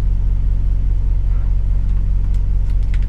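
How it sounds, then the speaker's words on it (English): A delivery truck rumbles past nearby with a low, steady engine drone and faint hiss, no voices. "Ooh, there's a Domino's truck."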